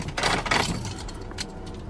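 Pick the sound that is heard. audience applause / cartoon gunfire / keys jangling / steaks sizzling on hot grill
keys jangling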